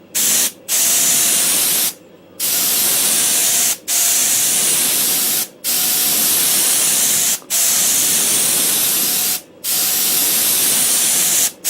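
Spray gun applying Cerakote coating to a tripod, loud close hissing bursts of spray lasting one to two seconds each, separated by brief pauses, repeated about seven times with no talking.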